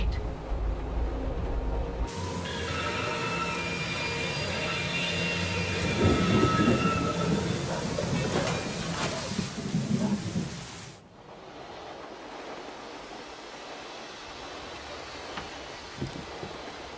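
A thunderstorm in the adventure game Syberia 4 rumbles with rolling thunder over steady rain for several seconds, then cuts off abruptly to a quieter, muffled backdrop.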